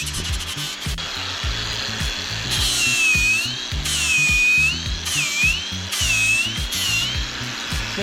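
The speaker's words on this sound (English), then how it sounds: "this is actually a knockoff called a VariWave grinder and a knockoff battery" Battery-powered knockoff VariWave grinder carving a fish into a wooden log, a close rasping rotary whir with repeated scraping strokes and rising-falling whines as the tool bites in and lifts off the wood.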